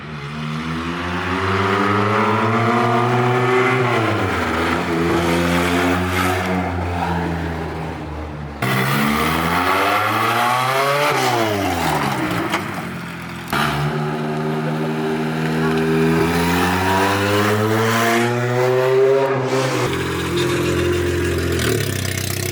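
Honda Civic with a swapped K24 engine and open header, loud and close, revving up and down in repeated sweeping pulls with a gruff, vibrating exhaust note and brief drops to idle.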